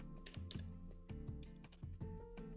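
Keys tapped on a computer keyboard while entering an Excel formula, a quick irregular run of soft close clicks under a faint steady background tone, with no talking.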